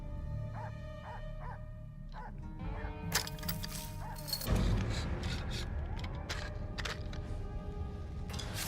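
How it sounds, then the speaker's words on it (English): Dog in the video game Ghost of Yotei, a few short barks amid layered game ambience and music, followed by a louder burst of action sounds. "Oh, there's a dog right there."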